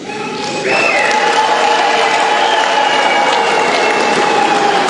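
Loud, sustained applause from a large crowd at a political speech, with the clapping swelling after a moment and holding steady as dense, continuous noise.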